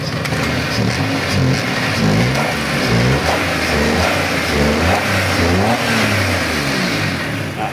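A car engine revs hard after a fuel pump replacement, a loud, continuous surging roar that rises and falls through the whole stretch, close up with no talking.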